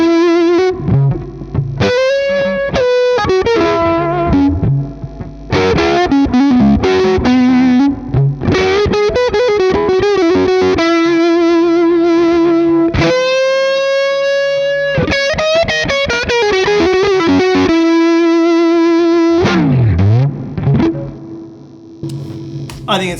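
A Stratocaster electric guitar played through a fuzz pedal into a Tone King amplifier, loud distorted chords and single-note lines with sustained bends, ringing out continuously and alone without any talking.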